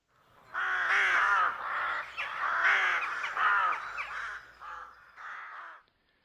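A series of harsh, throaty caws from rooks, several calls in quick succession, close and clear with short pauses, ending in quiet.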